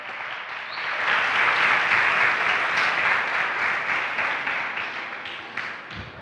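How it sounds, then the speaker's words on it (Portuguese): A church congregation claps together in sustained, dense applause that swells and holds for several seconds before tapering off. "Aplauda mesmo ao Senhor."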